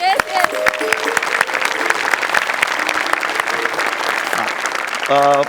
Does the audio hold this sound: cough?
no